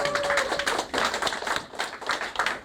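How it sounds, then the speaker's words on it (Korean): People clapping hands at a talk on the mindset of the rich, a dense round of applause from an audience that swells and dips in several waves, close and lively, with no speech over it. "이제 이렇게 박수 치면 유튜브에 달릴 겁니다."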